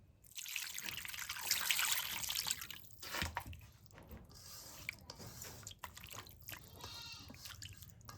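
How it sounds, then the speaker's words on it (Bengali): Water trickles and splashes into a cooking pan holding ash gourd and small river fish, with a louder pour early on followed by softer, uneven dribbling and a few clinks, close up, with no one talking. "একটু পানি দিয়ে দিই।"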